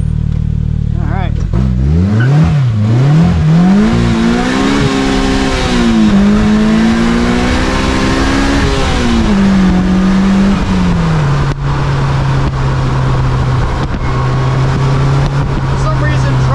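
Car accelerating hard with traction control cutting in, the engine note rising and wobbling in stuttering surges before settling into a steady drone, loud and close from inside, with a person talking over it.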